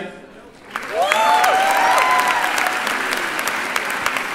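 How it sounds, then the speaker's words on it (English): A live show crowd in Boston breaks into loud applause for the sound and light crew, starting abruptly after a brief quiet and swelling into sustained clapping with whoops and whistles rising through it. "let's give a big round of applause for the sound and light guys"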